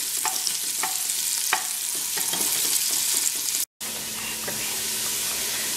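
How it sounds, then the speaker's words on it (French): Onions and cardamom pods fry in ghee over medium heat for a lamb curry, giving a steady close sizzle broken by several sharp pops and a brief stir, with one short gap of silence near the end. "je vais laisser les oignons à feu moyen dorer"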